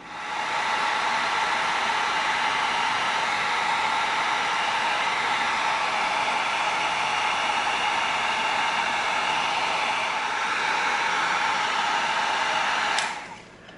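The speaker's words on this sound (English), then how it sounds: "Now we're gonna get our heat gun out, and we're gonna tighten up the foam" Heat gun blowing a loud, steady roar of air close by while shrinking foam for a prop pistol build, running unbroken for about thirteen seconds and then clicking off, with no talk.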